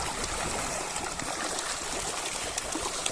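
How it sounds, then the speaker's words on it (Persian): Clear water runs steadily through a qanat channel, a continuous close-up rush and trickle with a broad, even hiss and no voices. "تو آب قنات، آب جاری قنات"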